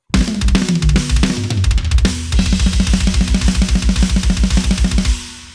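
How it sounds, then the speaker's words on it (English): A punchy, processed sampled drum kit plays a fast groove of kick, snare and hi-hats, tight and polished, ending abruptly with a short decay. "You have professional sounding drums that sound like this."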